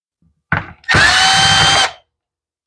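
A power driver backs a small screw out of a chainsaw carburetor, with a short whir followed by a loud, steady motor whine of about a second, recorded close up with no talking.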